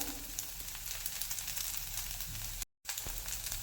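An amboli rice pancake sizzles on a hot pan, a close, steady crackling hiss broken by a brief dropout near the end, with no talking.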